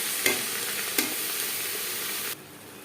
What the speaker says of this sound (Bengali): পেঁয়াজ লালচে করে ভেজে নেওয়ার পর